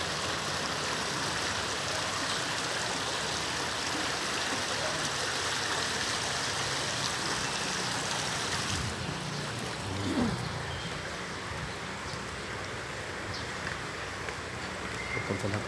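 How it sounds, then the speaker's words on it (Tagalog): Water from a small stream steadily rushing and burbling outdoors, a constant broadband wash that carries on without a break, with no voices over it. "Ito yung sapa nila"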